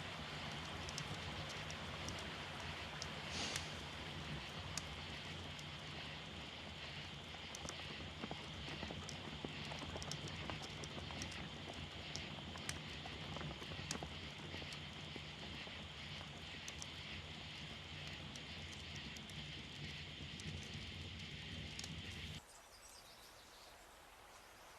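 Horse hooves clop steadily on hard ground for a long stretch, with wind and faint background noise, and stop abruptly near the end.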